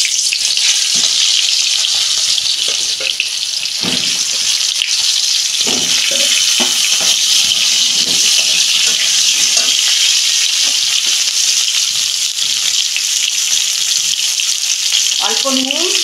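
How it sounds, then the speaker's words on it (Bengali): Pointed gourd pieces sizzling in hot oil: a steady, loud frying hiss with occasional stirring clatters, and a brief voice near the end over the continuous crackle. "পটলগুলো ভেজে নিচ্ছি।"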